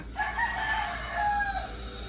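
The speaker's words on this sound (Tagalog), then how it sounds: "ba't yung manok tilaok ng tilaok" A rooster crows in two long drawn-out calls, fairly close and loud, over a steady low background hum.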